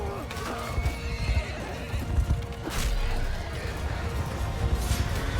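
During a large Mount & Blade II: Bannerlord battle, horses neigh and whinny over thudding hoofbeats and battlefield clatter, several loud whinnies standing out against a constant churning din of mounted troops.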